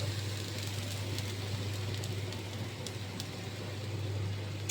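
Oil crackles and spatters faintly in a curry pan after curry leaves and onion paste go in for fish curry, a soft steady sizzle with scattered small pops over a low background hum.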